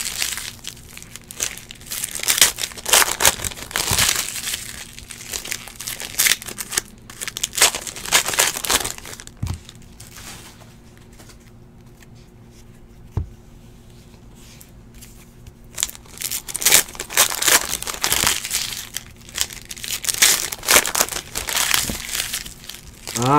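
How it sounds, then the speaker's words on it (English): Donruss basketball card packs ripped open by hand: bursts of loud crinkling foil and tearing wrapper, close up, in several clusters separated by a quieter stretch with a few small rustles, no talk. "The sweet, sweet sound of ripping."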